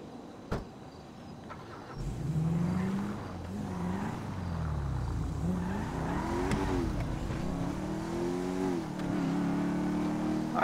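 A car is driven in Grand Theft Auto V, its engine revving and rising and falling in pitch as it accelerates, with brief tire squeal, loud and continuous for most of the stretch.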